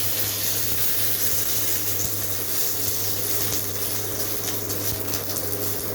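Dried chillies cut in two and two bay leaves fry in hot oil, giving a continuous loud sizzling hiss with a low steady hum beneath, and no talking.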